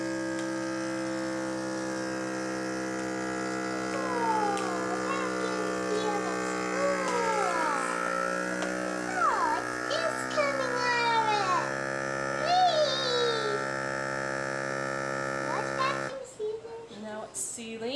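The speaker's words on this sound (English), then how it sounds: "Make sure it clicks, and then we'll vacuum seal." A vacuum sealer hums steadily for a long stretch while drawing air out of a plastic bag on a homestead, a constant mechanical drone with overtones, faint voices and chirpy sounds over it, ending in a brief rougher burst.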